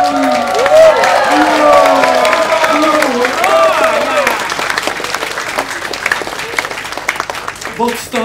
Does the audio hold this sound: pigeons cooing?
no